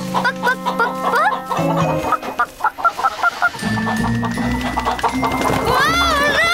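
Cartoon chickens cluck in quick repeated bursts, clustering into busy rhythmic runs, with a rooster-like call and other animated sound effects mixed in close and loud.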